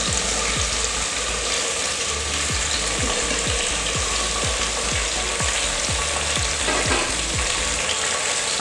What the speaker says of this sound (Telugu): ఇప్పుడు కట్ చేసి పెట్టుకున్న వెజిటేబుల్స్ వేసుకుందాం.